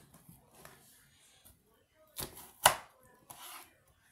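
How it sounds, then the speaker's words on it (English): A knife slices lengthwise through a head of cabbage for corned beef and cabbage, giving a few crisp cutting strokes with one sharp loud crunch in the middle, close up and with no talking. "Now I'm just going to slice it lengthwise."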